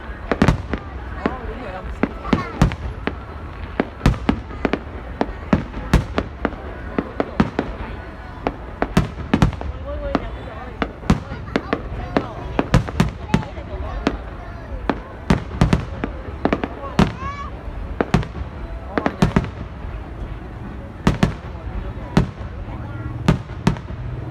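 Fireworks fire in rapid succession during a celebration, a long barrage of sharp, loud bangs following one another closely over a continuous rumbling bed, with crowd voices underneath.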